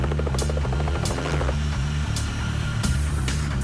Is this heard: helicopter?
yes